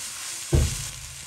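Chinese chives stir-fried with salt in a wok over high heat give a sudden close sizzle burst that fades into a steady fry hiss.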